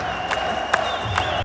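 An MMA arena crowd cheers and roars in a dense, sustained wash of voices, with a few sharper bursts standing out, heard close and loud for a brief moment.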